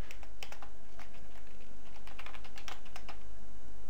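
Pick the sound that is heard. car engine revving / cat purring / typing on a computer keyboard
typing on a computer keyboard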